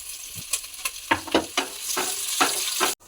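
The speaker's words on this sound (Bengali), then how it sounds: "পেঁয়াজটা লাল লাল করে ভাজা হয়ে গেছে" Onion with green and dry red chillies frying in mustard oil in a wok, loud sizzling bursts with spatula scrapes and stirring clatter in an irregular rhythm, close by, ending abruptly, no talk.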